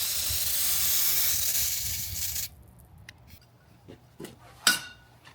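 AutoZone brake cleaner sprayed onto a vintage Honda MR50 carburetor, a steady close hiss for about two seconds that stops abruptly, followed by a few sharp metallic clinks of small parts.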